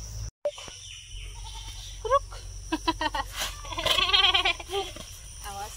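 A desi goat bleats several times nearby, short wavering cries during hand milking, with someone speaking briefly and a steady background hum.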